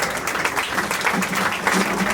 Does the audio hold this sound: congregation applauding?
yes